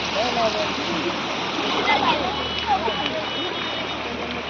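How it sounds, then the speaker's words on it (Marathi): A small village stream rushes and splashes steadily, a continuous watery hiss with faint voices now and then beneath it. "हा आमचा छोटासा ओहोळ एकदम वाहतं पाणी आहे"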